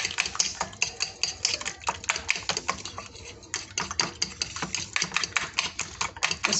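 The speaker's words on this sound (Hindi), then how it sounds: "हम इसको अच्छे से अब फेंटा लगाते हैं, इसको अच्छे से मिक्स करते हैं" Eggs mixed with ground red chili are whisked briskly in a bowl, a steady fast clatter of utensil against bowl that runs close and loud without pause, with no talking.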